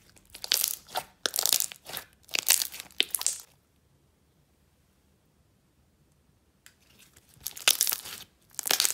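Thick, stretchy clear slime is squished and pulled by hand, giving bursts of bright crackling and popping in rhythmic handfuls, close and crisp, with a quiet pause in the middle.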